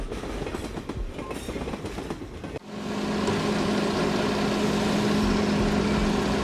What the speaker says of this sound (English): the Ferrovia Circumetnea train begins rolling.